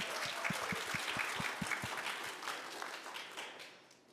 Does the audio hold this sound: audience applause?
yes